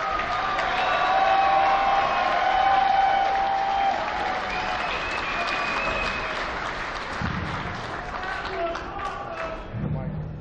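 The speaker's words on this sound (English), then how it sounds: "Let's hear it for Shima." A large crowd at an independent wrestling show applauds and cheers after a match, a dense, sustained wash of clapping with voices over it, fading slightly toward the end.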